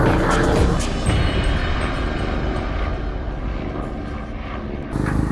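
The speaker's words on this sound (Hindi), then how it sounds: "मोरगिरी किले के ऊपर से एक हेलीकॉप्टर जाता हुआ दिखाई दे रहा है।" A loud helicopter engine roar rumbles steadily overhead above Morgiri Fort in Maharashtra and then slowly fades, with broadband wind-like noise throughout.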